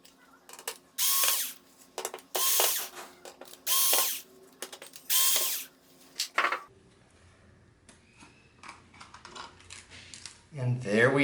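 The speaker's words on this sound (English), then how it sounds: "So let's go ahead and get these screws out." Screws being backed out of the rear plastic housing of a Sony XBR-55X900C television with a ratcheting power driver, several loud whirring bursts in a steady rhythm, followed by quieter clicks and handling of small parts.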